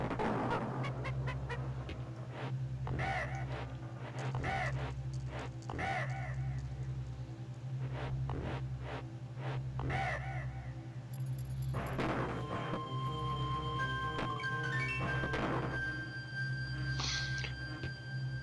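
Squawks the parrot from Donkey Kong Country caws repeatedly in rhythmic bursts over a looping, bass-heavy game music track, with sharper calls clustering near the end.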